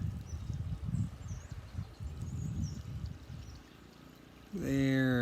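A small farm creek flows faintly in the background, a soft steady wash with birds chirping high above, before a louder tonal sound cuts in near the end.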